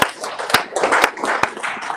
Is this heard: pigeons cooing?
no